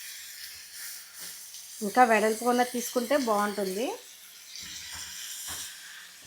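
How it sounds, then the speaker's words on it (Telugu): Hiss of water hitting a hot pan of frying fish pieces for a Godavari-style tamarind fish curry. A steady, fairly quiet hiss runs throughout, partly masked by someone talking in the middle, then swells a little after she stops. "ఇప్పుడు కొద్దిగా వాటర్ పోసేద్దాం."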